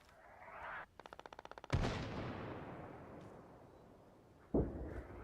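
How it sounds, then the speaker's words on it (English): Artillery fire in the Arma 3 combat game: a rapid burst of about ten evenly spaced shots, then a heavy booming blast that rumbles and fades, and a second loud boom near the end. "Oh, look at the artillery."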